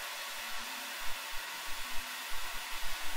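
A spray gun applies primer sealer over a zinc coating on shot-blasted bare car-body metal, making a steady, close, broad hiss with small fluctuations throughout.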